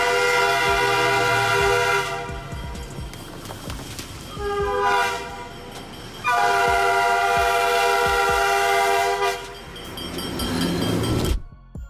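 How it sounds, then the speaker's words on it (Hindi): A fast train approaches a railway crossing, its horn blaring in long sustained blasts over the rolling rumble of wheels on track, loud and close, with short breaks between the blasts before the sound cuts off abruptly. "अचानक एक तेज रफ्तार ट्रेन उसकी ओर आ जाती है"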